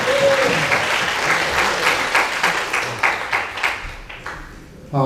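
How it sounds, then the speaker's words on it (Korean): Church congregation at a March First independence movement prayer service claps loudly and continuously, the applause thinning into scattered claps toward the end. "다시 한번 뜨겁게 하나님의 영광에 박수 치겠습니다."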